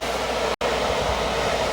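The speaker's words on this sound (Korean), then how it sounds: "천정형 에어컨 들어갔는데 이거는 DC용 에어컨이에요." Ceiling-mounted DC air conditioner inside a Solati camper van, set to 17 degrees on strong fan, gives a steady close broadband whoosh of blowing air with one brief dropout partway through.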